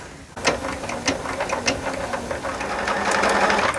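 A sewing machine stitches through quilt block seams, a close, rapid mechanical whirring with rhythmic needle ticks that grows steadier and louder toward the end, with no voices.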